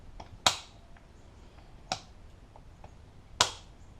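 A Kings Dominator Extreme winch clutch, a winch fitted with 26 metres of synthetic rope, snaps into engagement three times, each a sharp, close, isolated click about 1.5 seconds apart over quiet background.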